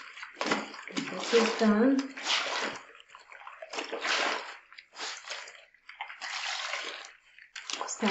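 A white towel washed by hand in water, with repeated sloshing and squishing in uneven bursts that are close and fairly loud.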